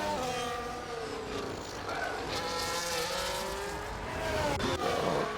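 Several race cars in a Monaco racing video game roar together into the tunnel, a dense, continuous engine whine with shifting pitches as the pack passes, steady and loud with commentary over it.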